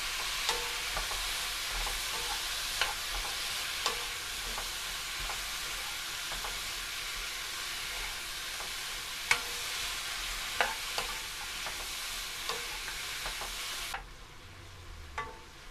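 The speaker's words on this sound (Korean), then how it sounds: "볶다가 무도 넣어줍니다" Beef and radish stir-fry in a pot for beef radish soup, a soft continuous sizzle dotted with light clicks of stirring before the sound suddenly drops away near the end.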